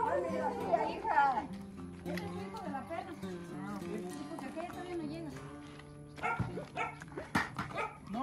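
A female dog barks and yips a few times outdoors, mixed in with people talking over it.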